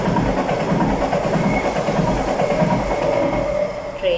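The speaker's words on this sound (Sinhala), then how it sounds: "ට්‍රේන් එකක් ගියා" A train passes close by with a steady rumbling clatter of wheels on rails that fills all four seconds and eases slightly at the very end.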